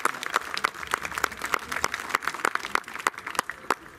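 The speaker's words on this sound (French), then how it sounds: "Vous pouvez vous applaudir." Sparse, scattered applause from a small audience at a commemorative ceremony, individual claps clearly separable and rhythmic, fairly quiet and distant.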